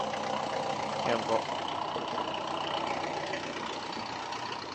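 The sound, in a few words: 4JB1 turbo diesel engine idling in a Jeep Wrangler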